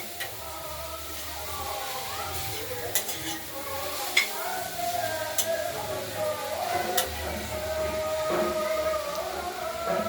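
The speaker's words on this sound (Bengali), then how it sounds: "আমরা মূলো ভাড়ালিটা ঢাকনা খুলে আবার একটু নাড়াচাড়া দিয়ে নিলাম" Radish curry with coriander leaves and lentil dumplings sizzles steadily in a pan while a spatula stirs it, giving occasional scraping knocks against the metal over a constant low frying hiss.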